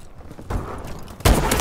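A Morse sniper rifle fires in the video game Call of Duty: Advanced Warfare, two loud, close booming reports about three quarters of a second apart, each with a short mechanical tail.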